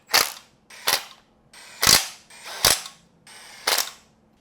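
Wrench snapping as bolts are torqued to spec on a C6 Corvette, five sharp loud clicks spaced roughly evenly about a second apart with near silence between them.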